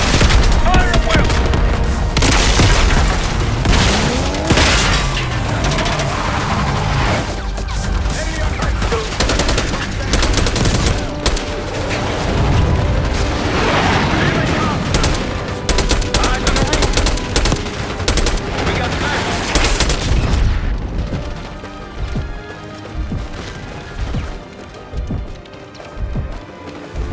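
Heavy gunfire in Call of Duty Black Ops 6 during an assault on a palace gate: loud, dense automatic bursts and booming blasts pour out continuously, then thin into sparser, quieter shots near the end.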